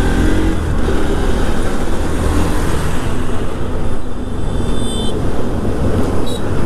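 Vehicle climbing a hill station road on a drive from Gujarat to Madhya Pradesh, its engine a steady, loud drone with road rumble throughout and no talk.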